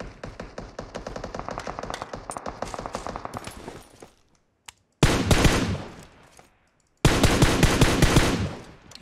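Automatic rifle fire in PUBG Mobile: a long rapid burst of close, loud shots, a brief silence, then two more sharp full-auto bursts, with no talking over them.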